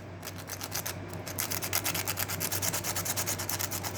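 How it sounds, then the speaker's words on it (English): Sandpaper rubs back and forth on a corroded fuse from a Robot Coupe hand blender motor in quick, even scratchy strokes, close and fairly faint, with no voices. "So use a sandpaper to clean the fuse"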